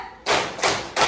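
A classroom of students claps together in unison, three sharp group claps spaced evenly about a third of a second apart, loud and close, with no talking.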